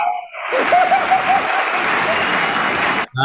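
An audience at a talk bursts into steady applause that holds for a few seconds and then cuts off abruptly, with voices heard at the start and end.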